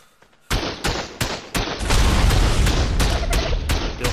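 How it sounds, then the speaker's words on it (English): Gunfire from the video game ARK Survival Evolved, with a rocket launcher firing and C4 exploding, arrives as a few sharp separate blasts and then a dense, loud run of booming detonations. "I'm gonna go blow up that turret, but I can't get close enough, so I gotta shoot it with the rocket."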